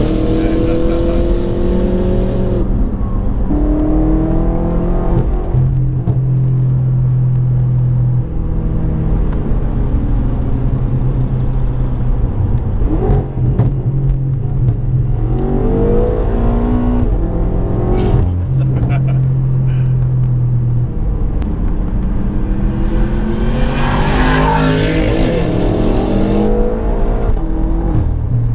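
A BMW F10 M5 engine and exhaust rumble loudly and steadily throughout, with revving swells, while people talk over it.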